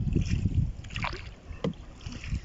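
Small wooden rowboat paddled along a river in the rural countryside, with low, rhythmic water sloshing and paddle strokes close by, one sharper splash near the end and faint wind behind it.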